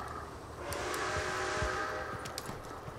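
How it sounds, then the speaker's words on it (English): Train passing in the video game Red Dead Online, a steady rumble of rolling wheels and rail clatter with brief metallic squeals, moderately close and fairly quiet, with no voices. "It scared me because I heard that train and I'm like, fam, I'm about to get ran over."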